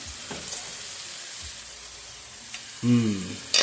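Butter sauce sizzles around steelhead trout in a hot pan, a soft steady frying hiss close by, broken by a couple of clinks and a short tonal sound near the end.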